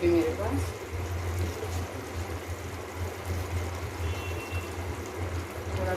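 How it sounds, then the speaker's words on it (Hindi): Water poured from a small amount into simmering vegetable curry gravy while cooking a Navratri fasting meal, a soft steady pouring hiss over a low hum lasting several seconds. "सब्ज़ी की ग्रेवी लूज़ करने के लिए थोड़ा सा मैं डाल दूँगी पानी।"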